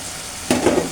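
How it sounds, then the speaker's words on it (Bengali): Fried rui fish dropped into hot oil and spices cooked for bhuna, with a sudden burst of sizzling and stirring halfway through after a quiet start. "ভাজা মাছটা এখন দিয়ে দেবো,"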